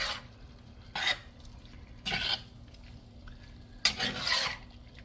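Spoon stirring a shakshuka mixture in a pan, heard as three brief scraping bursts spaced about a second apart over a low, steady background hum.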